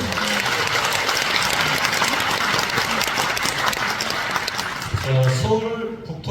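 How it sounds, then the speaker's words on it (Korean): Audience at a book talk in Gwangju, a sustained wash of applause that carries on steadily for several seconds, then fades as a voice begins speaking near the end. "교수님이 발언을 할 때마다 박수가 나오네요"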